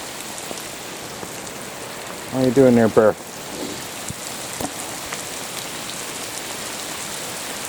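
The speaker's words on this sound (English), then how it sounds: "torrential rain. Torrential." Heavy torrential rain pounds and bounces off the ground in a steady dense hiss, while someone speaks briefly partway through.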